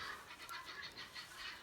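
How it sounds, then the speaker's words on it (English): Chickens and other birds cluck and call outdoors as a steady, faint, distant chorus of repeated chatter. "I'm sorry about the birds."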